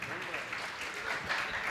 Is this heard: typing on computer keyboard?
no